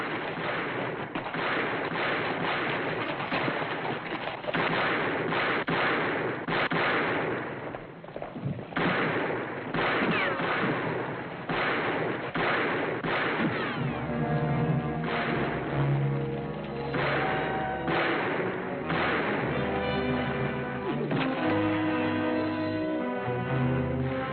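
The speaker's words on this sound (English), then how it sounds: "Which way you shooting, Jason?" Gunfire from a western shootout in a 1970 film, heard as a rapid, dense string of shots and ricochets on a muffled, narrow-band soundtrack. Music with sustained tones comes in under the shots later on.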